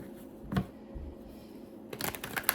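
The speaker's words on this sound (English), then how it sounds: "So if the shuffles don't look great, I am working on it." Tarot cards being shuffled by hand, quiet and close, with a brief riffle early on and a busier burst of card flicks near the end.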